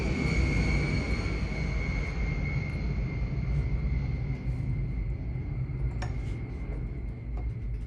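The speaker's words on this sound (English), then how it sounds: "If you hear the B-52 flying over, that's the sound of freedom." A B-52 bomber flying overhead, a steady broad low rumble with a faint high whine filling the whole stretch, heard alone outdoors with a couple of brief clinks.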